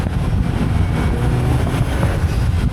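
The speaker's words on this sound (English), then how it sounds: "Accelerating out of the corners." A Caterham 170S accelerates hard out of corners in low gears, its small engine giving a steady, loud, gritty drone that holds close and continuous with no talking over it.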